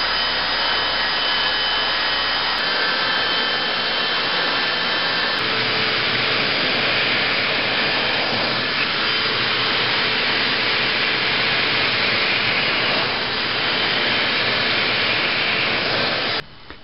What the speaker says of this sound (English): And then turn on the vacuum and you're ready to cut.